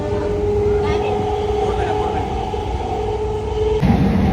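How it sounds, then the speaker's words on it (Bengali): Passenger train ride heard from inside a carriage: a steady low rumble with a sustained mechanical hum, continuous and fairly loud, shifting near the end. "বাট এই যাওয়ার দিনটা ট্রেনে চড়া হয়ে গেল আমাদের"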